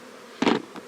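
Honey bees buzz in a damp beeyard: a short loud burst of droning wingbeats close by after a quiet moment, then a fainter second buzz.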